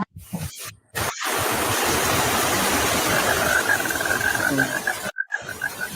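Steady broadband rain hiss pours down continuously, loud and close, with a tonal chirping line emerging in the latter half before a short break near the end.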